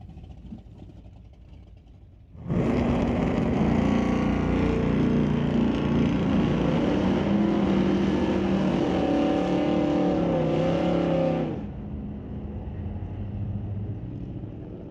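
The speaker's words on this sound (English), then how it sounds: "Aiden Ledrette now in the 71 Chevy Malibu in the left lane" A 1971 Chevy Malibu drag car launches at an old-time drag strip, its engine bursting from a distant rumble into a loud, roaring run for about nine seconds before fading back to a lower drone.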